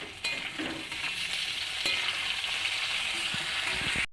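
Chopped tomatoes added to hot oil in a pan for a chicken dish, a continuous bright sizzle with a few sharp spatula clicks and stirring scrapes.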